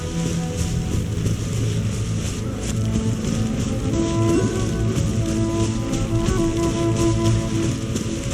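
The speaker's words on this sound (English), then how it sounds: "Rain." Steady rain pours in the video game Genshin Impact, a dense, continuous patter on surfaces with a faint background tone and no pauses.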